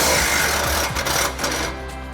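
An impact wrench with a 15 mm socket spins off the lower shock bolt on a 2005–2009 Mustang GT front strut. It is a brief, loud, rattling hammer-buzz close by that eases off toward the end.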